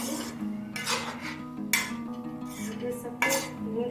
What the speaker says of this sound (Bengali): আমি রান্নাটা একটু দিয়ে একটু নেড়ে নিচ্ছি